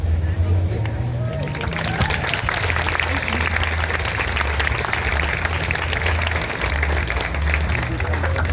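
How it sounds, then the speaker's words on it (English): An outdoor audience at a vegetarian festival applauds for a group of kids, dense and loud clapping that carries on steadily with crowd chatter mixed in. "Let's give those kids another round of applause."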